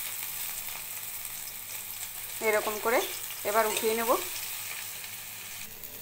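Helencha greens pakoras fry in oil with a steady, faint hiss and crackle, while someone speaks briefly over the sizzle.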